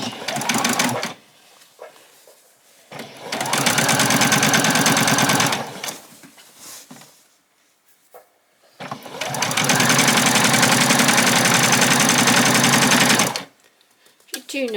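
A sewing machine stitches an apron seam on fabric, two long rapid runs of motor whir and needle clatter separated by pauses with short bursts and handling, close and loud, with a voice speaking in the gaps.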